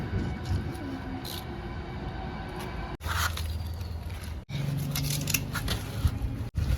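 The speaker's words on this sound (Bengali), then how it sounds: "এটাকে আগে এক্সট্রা যে রুট ফুটস আছে, এই যে ডাল ফাল, সেগুলোকে কেটে নেবো" Scissors snipping off the extra roots and branches of a rescued plant during potting, close and fairly quiet, with a few crisp cuts set apart by brief pauses.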